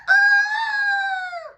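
A person imitates a rooster in a church, giving one loud, close, sustained cock-a-doodle-doo crow that trails off at the end.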